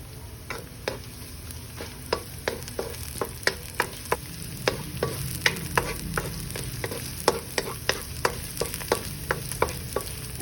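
White onions fry after garlic in a pan, giving a steady sizzle broken by frequent sharp clicks and scrapes from stirring, close and fairly loud, with no talking.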